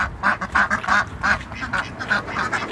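Ducks quacking in repeated bursts, a dense, fairly close chorus of overlapping calls with a steady rhythm against faint background noise, in a rural Pacific Northwest setting.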